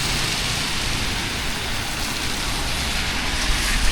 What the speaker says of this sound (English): Super big rain.